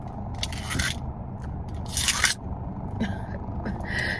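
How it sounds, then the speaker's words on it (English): Crunchy bites into small round frozen apple snacks, with scraping chews in a few bursts close up, crackly and wet against a low background hum. "the little circle apple ones that you bite and it literally sounds like apple"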